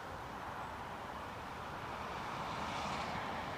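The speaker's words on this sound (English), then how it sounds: "It's a Grob Prefect" RAF-owned Grob Prefect T1 training aircraft at Newcastle airport, a steady broadband engine roar holding at even loudness with a slight swell near the end, heard from a distance with no voices.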